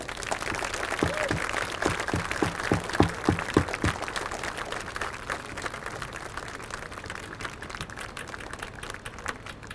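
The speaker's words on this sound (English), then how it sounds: "please join me in giving these folks a round of applause" An audience at a mock car crash demonstration claps together, a steady, moderately loud wash of applause that thins out and fades toward the end, with no speech.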